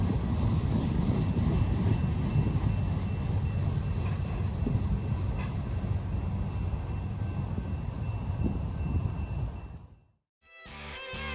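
A Union Pacific heritage donation special carrying steam locomotives, including 3985, rolls past with a loud, continuous rumble and rail noise for about ten seconds, then cuts off abruptly.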